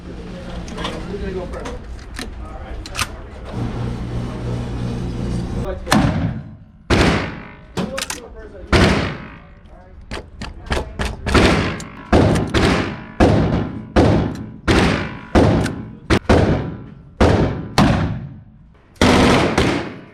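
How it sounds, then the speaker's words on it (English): A lever action shotgun fires at a Las Vegas shooting range: about a dozen loud, sharp blasts at irregular intervals, each with a short ringing tail, after several seconds of talk and background noise. "Do you want to shoot the lever action shotgun?"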